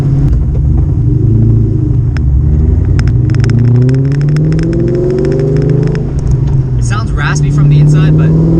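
A Fox-body Ford Mustang engine revs repeatedly with a deep, raspy exhaust note, pitch climbing and falling, loud and close throughout.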